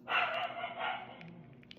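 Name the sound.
dog barking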